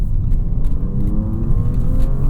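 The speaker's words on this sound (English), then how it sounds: "so if you're pushing down all the way through, revving up to the next gear, it will shift" A 2023 Audi S6 engine revving hard under acceleration on a test drive, a loud, continuous low rumble with rising engine tone heard from inside the car, with no talking.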